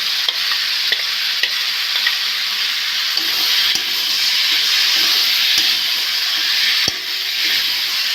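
Potatoes cooking with poppy seed paste for a ridge gourd posto, loud continuous frying sizzle close up, with regular scraping stirs of a spatula across the pan.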